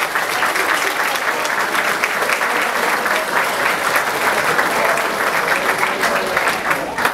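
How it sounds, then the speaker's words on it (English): A university audience applauding after a speech, dense sustained clapping from a large crowd that stays loud and even throughout, with no voices over it. "Give them a round of applause, please."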